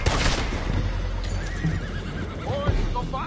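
A horse neighs in a shrill, wavering whinny amid a busy, noisy scene of rumbling and faint voices.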